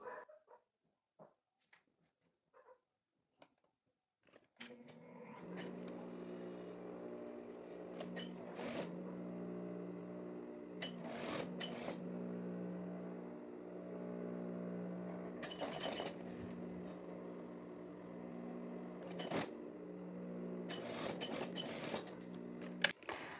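A sewing machine stitches bias binding along the opening of a sleeve. It starts with a few isolated clicks, then settles into a steady mechanical hum and whir with short pauses and bursts, close by, with no voices.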